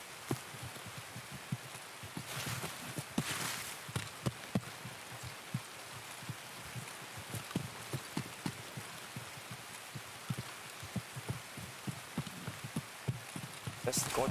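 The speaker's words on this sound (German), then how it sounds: "Ich höre wie der Regen aufs Gras." Rain falls steadily on grass in the video game Escape from Tarkov, a continuous soft patter with scattered louder drops across the whole stretch, and no one speaking.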